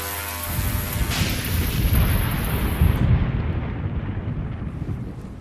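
Thunder from a lightning strike during a thunderstorm, a loud broad rumbling roar that swells and rolls on for several seconds before slowly easing, with no voices.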